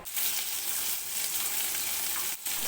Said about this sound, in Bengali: কড়াইতে সর্ষের তেল দিয়ে প্রথমেই আমি চিংড়ি মাছগুলোকে ভেজে নেব